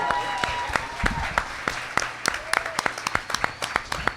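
Sparse, thin clapping from a few people, distinct claps in a loose steady rhythm, with voices murmuring underneath.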